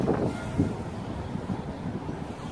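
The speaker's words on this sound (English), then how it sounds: "All while this wind is blowing ferociously" Strong outdoor wind buffets the microphone in low rumbling gusts, steady and close, during a flight of a Top Race TR-D4 Dragon drone with prop guards, with a faint hum of motion underneath.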